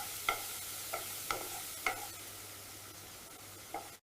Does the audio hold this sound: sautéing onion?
yes